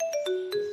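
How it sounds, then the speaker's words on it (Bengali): A phone ringtone plays a short sequence of bright electronic tones, close and clear. "আর একটা ফোন আইছে"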